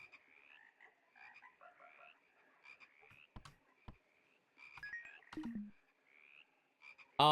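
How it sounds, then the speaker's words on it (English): Frogs croak and howl in a video game boss fight against the Frog King, a run of warbling, rising calls in repeated bursts, moderately loud, with a few sharp thuds and a loud hit at the end. "once the frogs start howling, you've done the job"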